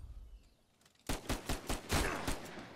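After a quiet lull, sudden sniper rifle gunfire in Uncharted 4 multiplayer breaks out as a rapid run of about seven loud, punchy shots at a fairly even rhythm, with no voices.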